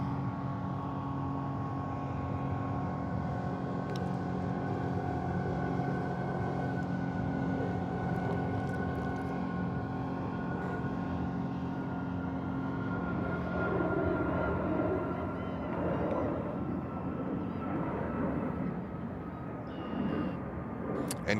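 A Korean Air airliner takes off at JFK airport: a steady, sustained engine roar with faint tonal whine, heard from a distance and holding fairly even throughout, with no talking.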